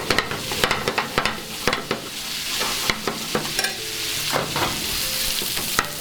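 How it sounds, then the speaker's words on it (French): Food stirred gently in a hot pan as poultry cooks, with regular scraping strokes over a soft continuous sizzle, close and clear with no talking. "Mélangez tranquillement sans que ça colore."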